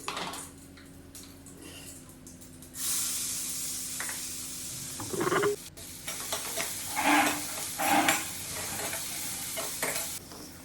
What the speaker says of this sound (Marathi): कढईमध्ये थोडंसं तेल टाकलेलं आहे त्यामध्ये बारीक चॉप केलेला कांदा